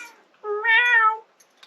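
A single drawn-out cat meow, clear and tonal, rising then falling, close by and alone in a quiet room.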